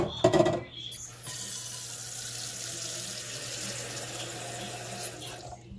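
A kitchen faucet runs steadily to draw more hot water for heating on the stove, a continuous hiss of flowing water under a low hum, opened with a brief clatter and ending with a clunk.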